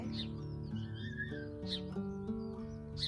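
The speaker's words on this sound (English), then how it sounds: "That little bird shouting at me." A few short, high chirps from a small bird come through faintly over a steady tonal background, spaced irregularly across a brief moment, with no speech.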